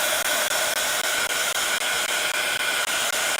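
A handheld craft dryer blows steadily and loudly up close, its constant airy whir drying a craft project on a mat, with no talking.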